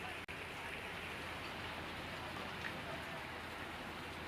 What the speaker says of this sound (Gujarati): ભારે વરસાદ થતા રોડ પર વરસાદી પાણી ફરી વળ્યા હતા